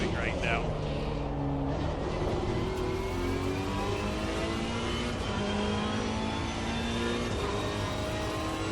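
A race car engine in a video game drones and revs continuously, its pitch rising and shifting through gears, with someone talking over it throughout.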